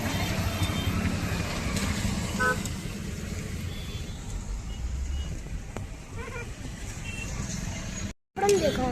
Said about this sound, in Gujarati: ટ્રાફિક ઘણું વધારે થઈ ગયું